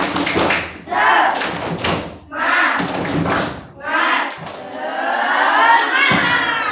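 A classroom of students performs a rhythmic spirit clap, loud patterned bursts of clapping and thumps separated by short pauses, with children chanting and shouting along in unison.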